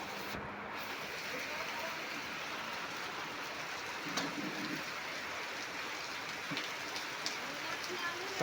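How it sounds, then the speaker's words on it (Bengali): Steady early-morning rain falls without pause, a broad even hiss on surfaces with a few faint thumps and distant knocks, no speech standing out. "সকাল সকাল একদম বৃষ্টি।"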